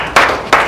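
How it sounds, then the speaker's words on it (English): Two brief bursts of hand clapping from a small group at a youth lecture, loud and close, each lasting a fraction of a second. "Round of applause to the resources."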